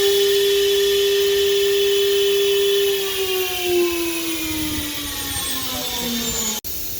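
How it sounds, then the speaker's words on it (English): A 4-axis CNC router spindle runs with a loud, steady high-pitched whine, then its pitch slowly sags as it winds down, ending with a sharp click near the end. "For example, I press it. You will see the spindle is running."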